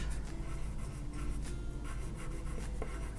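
Pencil sketching rough hand lettering on paper, a steady scratchy graphite rubbing that runs continuously at close range with no talk.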